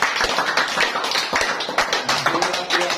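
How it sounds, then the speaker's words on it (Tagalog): An audience at a religious talk claps in quick, uneven bursts for about three seconds, fairly close and moderately loud. "Palakpak naman ito."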